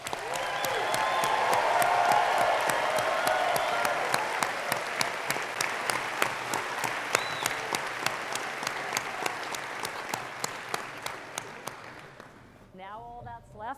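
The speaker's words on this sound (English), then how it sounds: "let's give ourselves a round of applause" Graduates and guests at a University of Calgary spring convocation break into broad, loud applause that swells, then thins into scattered claps before a voice begins at the end.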